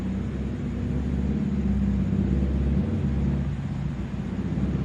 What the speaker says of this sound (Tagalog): May dadaan lang na tricycle ang ingay.